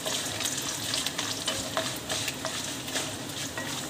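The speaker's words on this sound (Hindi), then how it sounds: "अब हम यहाँ पर मूंगफली ऐड करेंगे और इसे भी फ्राई करेंगे" Peanuts and curry leaves fry in a pan for South Indian lemon rice, giving a steady close sizzle with light scraping and stirring clicks throughout, no voices.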